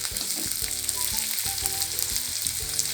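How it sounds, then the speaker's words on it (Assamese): Onions frying in oil until browned for a dried fish chutney, a close, dense sizzle with rhythmic stirring scrapes over a few seconds, nothing spoken. "পিঁয়াজখিনি অলপ ৰঙচুৱা হোৱালৈকে মই ভাজি থাকিম।"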